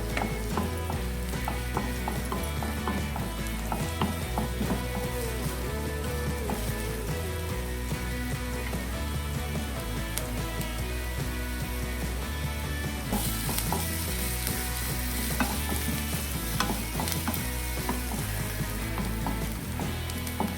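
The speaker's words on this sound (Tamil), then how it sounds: "வெங்காயம் நல்லா கலர் சேஞ்ச் ஆகிற வரைக்கும் வதங்கணும்." Onions sautéing in a pan for a pumpkin kurma, a loud continuous crackling sizzle with occasional stirring clatter, close up and unbroken throughout with no one speaking.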